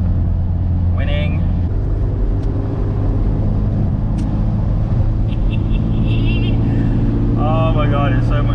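A Mk3 Golf estate car driving along, steady engine and road drone from inside the cabin, with brief bursts of people talking over it.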